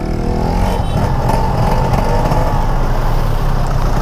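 A two-stroke Vespa scooter is ridden through traffic, its engine droning and buzzing steadily up close with wind rumble mixed in.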